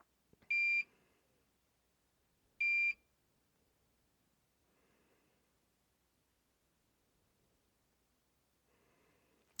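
A Toptes PT-830S combustible gas leak detector sounds two loud, sharp electronic alarm bursts about two seconds apart, followed by faint low rustling and near silence.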